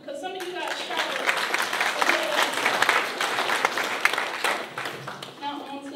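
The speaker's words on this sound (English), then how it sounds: "give yourselves a hand clap" A high school audience at a live-streamed event claps steadily for several seconds, a dense, even wash of many hands that fades slightly toward the end.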